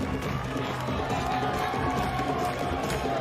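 Crowd noise at a men's kabaddi final during a village festival tournament, a continuous dense roar of many voices, steady and moderately distant, without distinct applause peaks.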